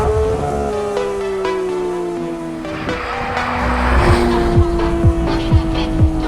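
A Porsche 992 GT3 driving hard, its engine and exhaust rising in pitch through the revs, then quick gear changes with sharp pops and a loud, close, raw howl.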